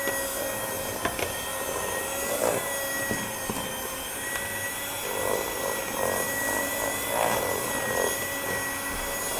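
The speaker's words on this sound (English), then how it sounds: "now I'm putting it on 3, just to get all that flour blended in" An electric hand mixer on speed 3 blends flour into Victoria sandwich cake batter, a steady whirring hum with scattered knocks and scraping of beaters against the bowl, close and continuous without talk.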